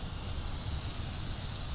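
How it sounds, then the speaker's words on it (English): Fajita steak sizzles over a live fire on a portable grill, a close, steady, unbroken hiss with no talking. "Hear that sizzle?"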